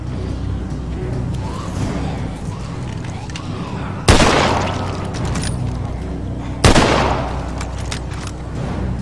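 Two sharp, loud gunshots from The Walking Dead video game ring out seconds apart as zombies are killed, each followed by a short decaying tail over a steady rumbling game backdrop.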